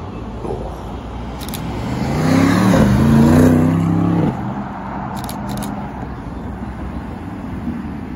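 An Aston Martin DBX 707 and a Lamborghini Urus drive past on a street in Alderley Edge, with one engine revving and swelling loudly for a couple of seconds before fading against steady background traffic.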